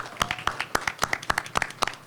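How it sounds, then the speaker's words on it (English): Scattered hand clapping from a small audience at a town meeting of the Town of Indian Head, a short, uneven round of distinct claps in a room. "So let's give them a round of applause"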